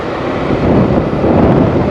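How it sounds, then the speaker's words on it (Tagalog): A steady breeze rushes and buffets against the microphone near old hanging bridges in green countryside, a continuous windy roar without pause. "Ang presko tuloy ng hangin, no?"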